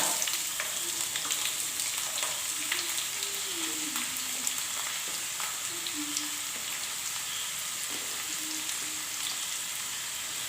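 Ginger and onion fry in a pan over a medium flame for a masala dosa filling, a steady close sizzle and crackle with occasional faint stirring sounds.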